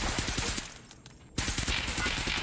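Rapid automatic gunfire rattles in dense bursts from a 50-round magazine during a competitive shooter match, broken by a brief lull. It sounds loud and close.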